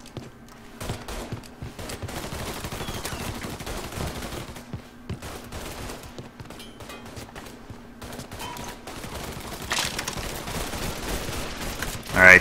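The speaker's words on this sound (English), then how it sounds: "They're just shooting at this thing." Sustained gunfire in the Mafia 3 video game, with dense overlapping bursts of shots and automatic fire rattling continuously at close range, swelling louder toward the end.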